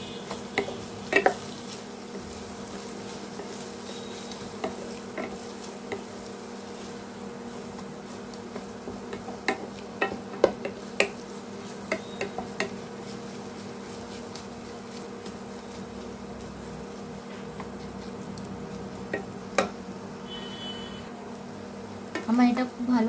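Spices with Kashmiri red chili, about three spoonfuls, stirred and fried in a pan for a Kerala-style mutton curry: a steady low sizzle with scattered scraping clicks of the spoon, no talking.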